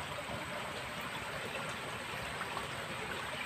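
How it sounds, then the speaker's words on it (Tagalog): Small stream at a farm resting spot, water flowing and trickling steadily with a soft, continuous babble, fairly quiet and close, with no voices. "maliit na sapa."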